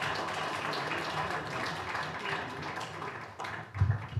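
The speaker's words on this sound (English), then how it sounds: "Please join me in giving one last round of applause." An audience at a school district board meeting gives a final round of applause for Math Field Day award recipients, a soft, steady patter of many hands heard from a distance.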